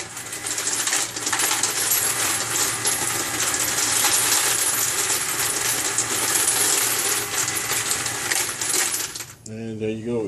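Continuous loud metallic clattering and rattling of small brass cartridge cases tumbling through a Hornady Lock and Load reloading press case feeder into its tube, steady for about nine seconds before abruptly stopping.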